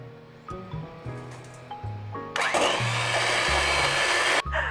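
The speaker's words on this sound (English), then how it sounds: "Then add together your butter and sugar and beat for about 3 minutes until it's light and fluffy." An electric hand mixer whirs through butter and sugar for cupcakes, starting and stopping a few times with shifting pitch, then running loud and steady before cutting off.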